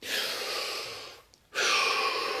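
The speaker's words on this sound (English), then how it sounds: "Take that breath." A deep, slow breath drawn in steadily during a guided relaxation session, followed by a short pause and then another long, airy breath, close and soft.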